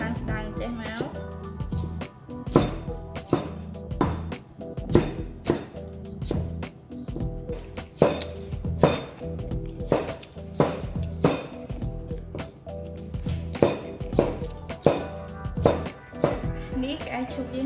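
A knife chops lotus stems on a board for a stir-fry, giving a steady series of sharp, fairly loud knocks with occasional clinks, while a person talks over the cutting.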